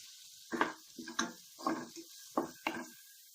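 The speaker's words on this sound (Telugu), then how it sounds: "ఆనియన్ వేగిపోయిందండి." Salted onions frying in a pan for vegetable fried rice give a quiet sizzle, cut by five or six distinct scraping stirs at a regular pace, close up.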